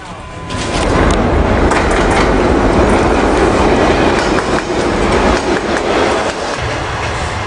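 Train travelling along the old Silk Road route from Xi'an, rolling close by with a loud, continuous rumble and rattling wheel clatter that swells in after a quiet start and stays steady.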